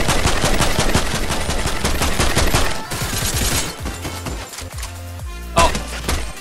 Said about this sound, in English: there's more shooting over here